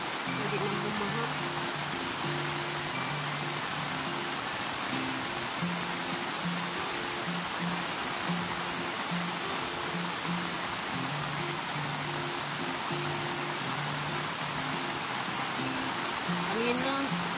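Floodwater flowing beside bamboo after rain, a constant broad rushing wash filling the whole stretch, with a voice talking faintly underneath.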